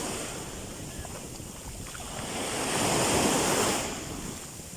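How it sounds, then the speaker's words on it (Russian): Strong sea surf at high tide roars steadily, swelling louder midway as a wave breaks and washes in, with no voices over it. "Но прибой, сильный прибой и прилив."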